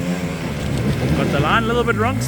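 Beta trail motorcycle engines rev and rise and fall on a rocky off-road trail, a steady close engine drone with pitch sweeping upward toward the end, under ongoing talk from a rider.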